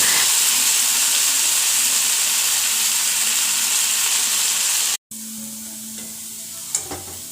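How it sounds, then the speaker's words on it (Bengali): Potato slices frying in a pan in a home kitchen give a steady, close, loud sizzling hiss for about five seconds. After a brief cut, a quieter sizzle continues with a faint clink near the end. "আলু ভাজাটা একটু লাল লাল করেই ভাজবো"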